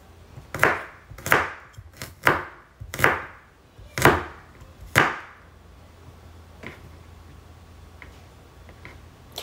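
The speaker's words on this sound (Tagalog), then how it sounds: "Maarte ako maghiwa. Gusto ko yung bawang ko, yung sibuyas ko, pantay-pantay." A knife chopping garlic and onion on a cutting board, six crisp evenly spaced chops close by, then a few faint light taps before it goes quiet, with no talking.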